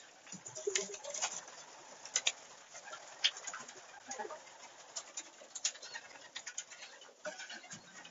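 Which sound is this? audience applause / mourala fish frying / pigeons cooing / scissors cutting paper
pigeons cooing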